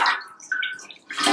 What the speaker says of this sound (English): I'll just squeeze out any excess drips before I pop it in my dye pot